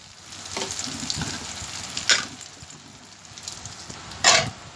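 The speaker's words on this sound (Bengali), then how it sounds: "একবার একটু পাঁচফোড়ন সম্বরা দিয়ে আলুগুলো ভেজে নেব।" Potato pieces fry in hot oil with panch phoron tempering, a steady close sizzle with a few sharper spatters and stirring scrapes, no speech over it.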